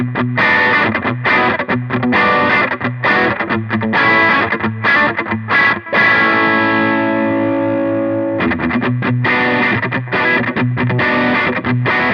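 A loud, distorted electric guitar riff on the bridge pickup through a modded Origin Effects Halcyon Gold pedal, choppy chords followed by a long ringing sustain, then the chugging riff resumes.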